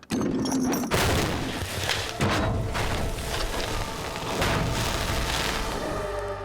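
A flattened car gas tank holding gasoline explodes on impact in a crash test: a sudden heavy boom followed by a long, loud roaring rumble and crackling bursts that fade slowly.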